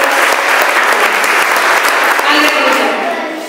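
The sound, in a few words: congregation applauding in church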